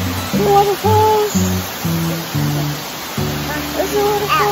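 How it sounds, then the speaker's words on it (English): Loud, steady rushing roar of Crabtree Falls close by, with people talking and calling over it throughout. "There's a waterfall."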